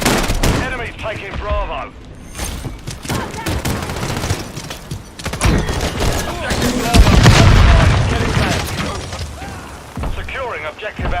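Constant battlefield gunfire in a military shooter game, with rapid rifle bursts, heavy booms and an explosion-like rumble in the middle, while radio-style voices call out over the din.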